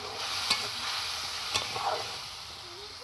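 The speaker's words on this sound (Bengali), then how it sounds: "মশলাটা খুব ভালো করে কষে নেব" Masala spice paste fries and gets stirred in a pan, a close continuous sizzle broken by a few spoon scrapes and knocks against the pan, with no one talking.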